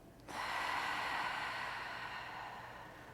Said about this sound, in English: Take a big breath in. And a big exhale.